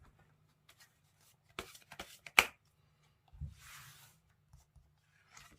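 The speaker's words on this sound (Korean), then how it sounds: "한번 좀 카드 뽑아서 보도록 할게요" Tarot cards are handled on a table, with a few soft riffles and slides, a sharp snap as one is drawn, then a longer brushing shuffle before quiet card placements. The handling is close, sparse and fairly quiet, with no talking.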